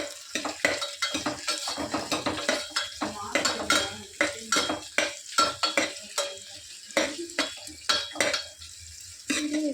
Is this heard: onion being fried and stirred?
yes